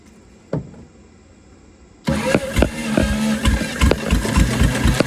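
A 1932 DeSoto engine, revived after decades in a barn, starts after a brief clunk and then runs at a steady, rough idle, loud and close with uneven low pulsing throughout.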